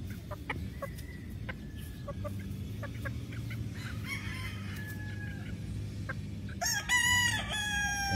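On a chicken farm's range area holding young birds about eight weeks old, scattered faint chirps sit over a steady background rumble until a rooster lets out a loud, close crow near the end.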